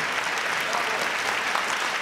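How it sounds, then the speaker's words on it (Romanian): An audience applauds ballet students after a choreographed performance, a brief, even wash of clapping from many hands with no speech. "Aplauze."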